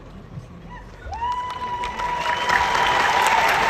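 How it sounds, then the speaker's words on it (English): A commencement audience applauds comedian Jerry Seinfeld as he takes the stage, with clapping that starts thin and builds into dense, sustained applause and some crowd noise, heard from a distance in a large venue. "they're clapping for him"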